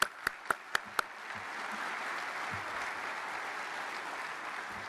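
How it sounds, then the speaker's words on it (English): A conference audience at the AUSA 2017 event applauds, a few sharp individual claps at first, then swelling into steady, sustained applause from a large crowd that fills the room. "So I'd like to acknowledge them and give them a round of applause."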